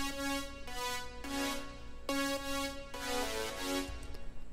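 A low synth layer for a future bass supersaw plays a bright, harmonically rich chord sequence in sustained blocks about half a second to a second long, cut by short gaps, with no voice over it.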